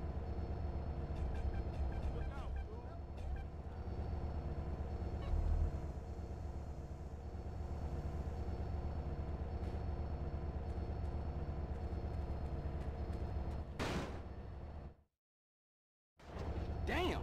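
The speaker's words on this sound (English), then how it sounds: "Check out the train, CJ." A train rolls past in the Grand Theft Auto: San Andreas video game, a steady rumbling, clattering drone with a whistle-like tone near the end, then a brief cut to silence before it resumes.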